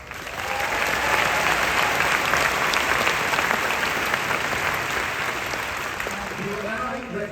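Steady, loud applause from a large crowd fills a university graduation convocation hall, holding at full strength throughout with no voices standing out.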